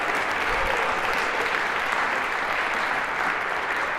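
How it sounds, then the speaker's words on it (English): Lecture hall audience applauds volunteers at a computer science class on cybersecurity, a dense, steady wash of many hands clapping throughout with no break. "A round of applause for our final volunteers."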